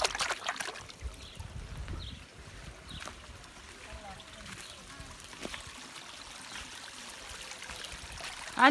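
Water flows and spills over in a village garden under construction, a soft trickling, streaming wash that runs steadily at low volume, with faint voices and scattered rustles nearby and a louder bump at the very end.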